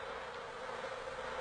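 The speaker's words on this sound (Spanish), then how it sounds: "las abejas exploradoras retornan a la colmena y presurosas comunican su" Scout honeybees returning to the hive make a steady, continuous buzzing hum, even and unbroken with no voices.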